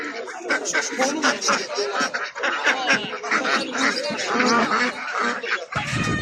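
Ducks at a busy poultry market in Sabunchu, Azerbaijan, quack and honk in a dense, overlapping chorus close by, with raspy calls repeating throughout before an abrupt shift at the end.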